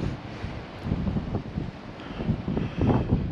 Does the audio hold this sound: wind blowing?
yes